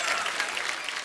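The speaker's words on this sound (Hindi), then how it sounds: "जोरदार ताली से स्वागत कीजिए" A studio audience at The Kapil Sharma Show breaks into dense, sustained applause, many hands clapping steadily and loudly throughout.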